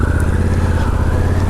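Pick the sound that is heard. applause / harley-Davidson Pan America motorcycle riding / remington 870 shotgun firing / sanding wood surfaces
harley-Davidson Pan America motorcycle riding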